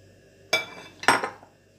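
A bowl is handled in a kitchen while preparing vegetables for mixing, giving two quick, clear clinks and knocks, the second followed by a short rattle, in an otherwise quiet room.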